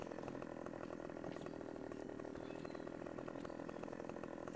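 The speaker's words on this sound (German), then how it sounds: "Ich säge da doch die ganze Zeit im falschen Winkel rein" Chainsaw cutting a tree in Farming Simulator 2015, a continuous buzzing engine drone held at steady loudness throughout, with no talk.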